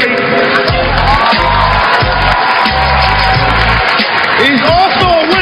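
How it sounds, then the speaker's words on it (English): A crowd at an AND1 streetball game in Philadelphia cheers and shouts loudly and continuously, with an announcer's amplified voice over the noise. "Let's give him a round of applause"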